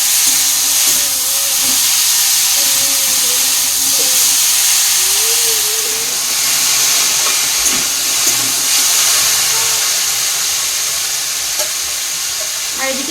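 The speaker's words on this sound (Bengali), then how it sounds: "আলুটা আগে ভালো করে ভেজে নিচ্ছি।" Potatoes frying in a hot pan give a steady, loud sizzle and hiss that runs the whole time, with faint stirring scrapes and clinks close by.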